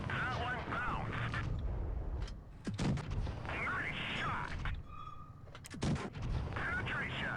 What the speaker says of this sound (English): And we're just pumping in the shots.